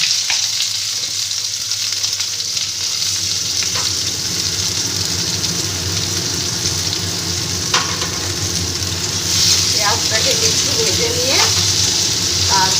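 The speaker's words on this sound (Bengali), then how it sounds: "আমার তেলটা গরম হয়ে গেছে ভালো করে এবার আমি এই পেঁয়াজ কুচিটা দিয়ে দিচ্ছি" Chopped onion sizzles and fries in well-heated oil for a bat-house-free Bengali potato and soya chunk curry, a loud continuous crackle with stirring scrapes of a spoon against the pan in the later seconds.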